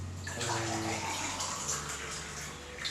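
Warm water poured into a container in a kitchen while preparing to depan and slice a giant milk tart, a soft continuous splashing gush heard up close and fairly quiet throughout.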